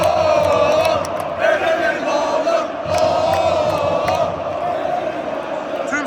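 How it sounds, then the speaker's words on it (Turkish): A large stadium crowd at a Galatasaray football match chants a player's name in unison, a loud, sustained rhythmic roar of many voices with rising and falling swells. "Stadyum Eren Elmalı diye bağırıyor"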